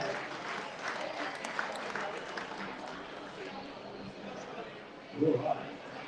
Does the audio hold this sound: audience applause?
yes